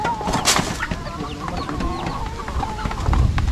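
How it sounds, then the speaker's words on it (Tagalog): Backyard chickens, mostly laying hens, cluck and murmur in an ongoing jumble of soft calls, close by at a steady level, with a slightly louder stir near the end. "Ayan guys, ang mga manok ni Bossing."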